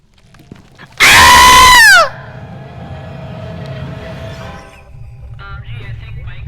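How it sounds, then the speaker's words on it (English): A loud, shrill scream in the video game Phasmophobia, rising sharply and bending downward for about a second, followed by lingering eerie tones and low background hum. "I just heard him scream from his office."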